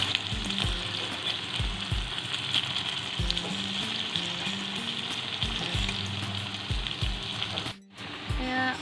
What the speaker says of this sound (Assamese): মই বৰাকেইটা অকণমান সময় সিজিবলৈ দিম।